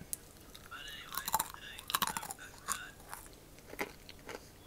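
Someone bites and chews crunchy homemade chunky granola up close, with several distinct crunches in an irregular rhythm over a quiet background.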